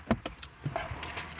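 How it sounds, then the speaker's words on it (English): Keys jangle in a few short metallic bursts, moderately close, with a faint car-like hum underneath and no talking. "Keys."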